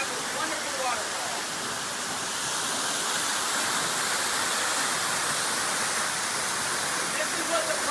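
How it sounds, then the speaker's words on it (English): A waterfall inside a cave at En Gedi gives off a steady, broad wash of falling water that holds an even level throughout with no pauses. "we have this wonderful waterfall"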